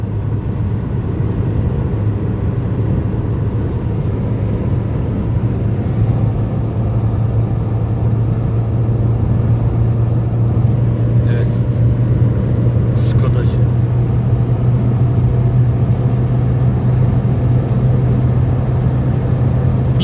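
A Renault car with an injection fault idles and runs steadily during a test drive, a constant low engine hum and rumble with road noise, loud and close throughout.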